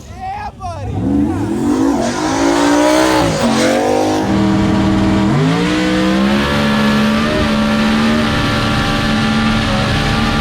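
A 2500-horsepower Coyote-engined drag radial car launches and screams down the strip, its loud engine note climbing through repeated gear shifts and holding a sustained roar to the end.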